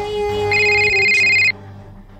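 A ringing phone plays a loud electronic ringtone burst that cuts off abruptly, followed by quieter room tone and the start of another ring at the end.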